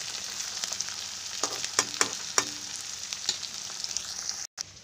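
Fried rice sizzling and frying steadily in a pan, with a few sharp stirring scrapes partway through and a brief dropout near the end; no talking.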